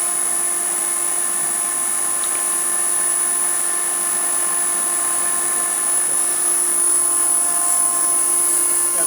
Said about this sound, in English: here's grinding wheel spindle